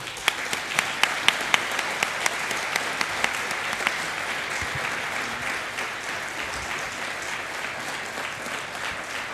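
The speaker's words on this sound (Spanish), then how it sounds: "Prolongamos un poquitito más el aplauso" Audience applause at a provincial economics congress on productive and agricultural policy, a dense steady clapping from a conference hall with a few sharper individual claps standing out early, sustained at moderate level throughout.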